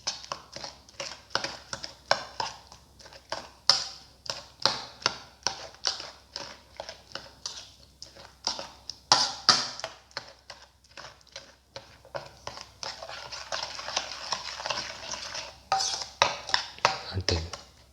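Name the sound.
mixing watermelon and orange with sugar in a bowl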